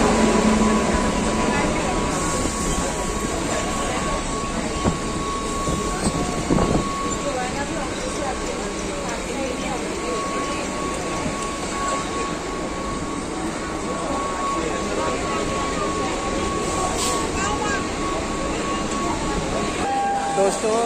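Train pulling into Borivali station in Mumbai, a steady loud rumble of wheels and carriage noise with a faint tonal hum, continuous throughout.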